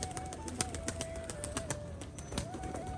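A male Rajshahi Giribaz pigeon beats its wings during tumbling flight, giving a rapid series of dry flapping bursts close by, with soft cooing from other pigeons in the background.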